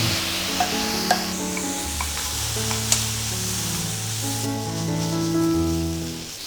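Food sizzles and crackles steadily in a hot pan as seasoning sauce is stir-fried in, with occasional scraping as it is stirred, close and continuous without talk.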